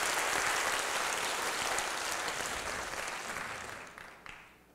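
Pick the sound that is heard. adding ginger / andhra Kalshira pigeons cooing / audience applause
audience applause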